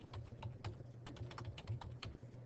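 Fingers tapping a computer keyboard in quick, uneven bursts of clicks, faint and close, with no talking.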